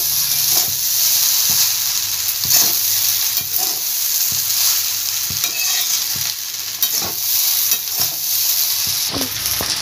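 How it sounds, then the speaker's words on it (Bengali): Cashews and raisins stirred into a vegetarian dalia (broken wheat) pulao in a pan: repeated scraping strokes of a spoon against the pan over a constant close sizzle and hiss, with no talking. "কাজু কিশমিশটা দিয়ে দেবো, দিয়ে মিশিয়ে নেব।"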